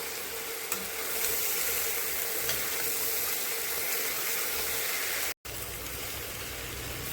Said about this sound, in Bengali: এখন এটা সুন্দর করে কষিয়ে নেব।